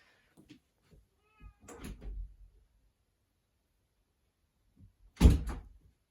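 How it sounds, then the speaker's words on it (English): Inside a house, a cat gives a few faint, short meows, followed after a quiet pause by a single sharp clunk of a door being opened. "the cat wants to go out"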